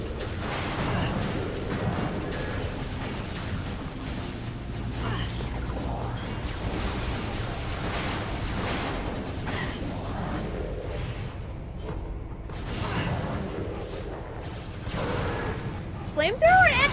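Flamethrower firing in the video game Metroid Prime, a continuous roaring rush broken by bursts and booms, heard under someone talking throughout.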